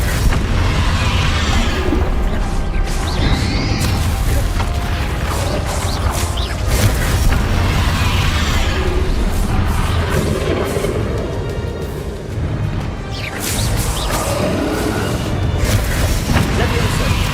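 In Hogwarts Legacy, the Confringo fire spell lands amid a dense, continuous roar of booming battle effects and rumbling magic, with a voice shouting spell names over the din.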